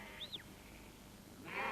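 A Cheviot sheep on a hillside gives a single short bleat, faint and distant against quiet open-air background.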